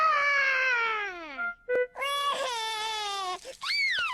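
A cartoon piglet wails and sobs, with long falling crying tones broken by a short catch of breath, then renewed rising cries, loud and close with no other sound.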